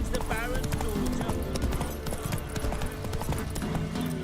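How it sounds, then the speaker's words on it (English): Horse hooves clip-clop at a steady pace in The Witcher 3 video game, close and rhythmic, under a voice and game music, with a brief neigh. "Whoa there, Roach"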